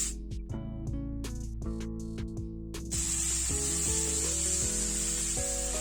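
Chopped onion, tomato and green chilli drop into hot oil, a loud steady sizzle and hiss rising abruptly over a background of music and continuing strongly.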